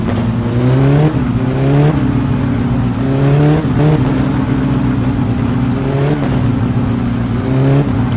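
A car engine in the driving game My Summer Car, its head gasket recently faulty, revs up and down steadily and loudly, with repeated rising pitch sweeps as the vehicle is driven, with no voices.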